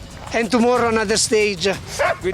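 Sled dogs bark and yelp excitedly during a snowy race, high, overlapping and close, in a loud continuous chorus of whines and yips.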